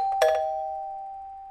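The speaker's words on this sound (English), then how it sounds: "Another ring of that bell." A doorbell rings once, with a sharp strike followed by a clear sustained tone that slowly fades, heard alone and up close.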